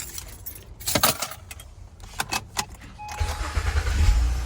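A 2005-2008 second-generation Acura RL with a newly replaced starter: keys jangle up close, then the engine cranks briefly, catches at once and settles into a steady, rumbling idle.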